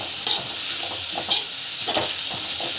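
Chopped vegetables with chilli powder and chat masala sautéing in a hot pan, a steady bright sizzle with soft stirring scrapes, close and continuous with no talk.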